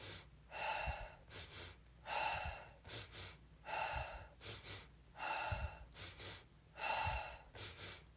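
Repeated breathing cycles: two quick sniffing inhales through the nose followed by a long, audible sighing exhale, close and steady.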